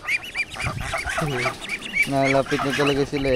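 Pet ducks quacking and honking close by in a busy, overlapping flock chorus while a person talks over them.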